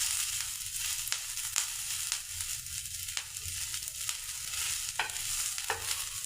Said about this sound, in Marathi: लसूण व आले टाकल्यावर ते 1 मिनिटभर भाजून घ्यायचे आहे।